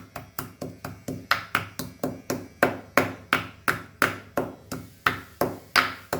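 Masala spices for a Goan bhindi (lady finger) jeerem meerem are crushed by hand in steady, sharp pounding strikes, about three per second, loud and close, with no talking.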